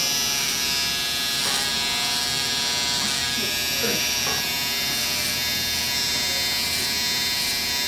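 A hair trimmer buzzes continuously while cutting hair, a close, constant electric hum that never stops across the whole stretch.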